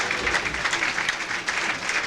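A bowling arena crowd at the 1998 PBA Brunswick World Tournament of Champions applauds continuously, a dense, fairly distant patter of clapping that holds steady throughout.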